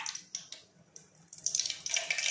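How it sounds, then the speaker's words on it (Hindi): Cooking oil is poured into a pan as faint drips and a short trickle that build into a soft, steady stream near the end, with no talk. "हम इसमें डालेंगे ऑयल।"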